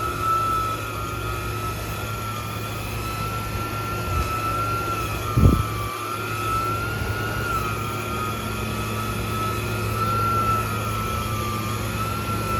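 2000 RPM floor buffer polishing a VCT tile floor, giving a steady high-pitched motor whine with a constant droning hum and one brief thump partway through, with no talking.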